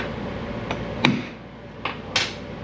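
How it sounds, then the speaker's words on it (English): A hammer strikes a punch into a rubber plug on a car part, giving several short sharp metallic taps spaced unevenly, with one louder hit in the middle. "Whack it with a hammer and put a hole in it."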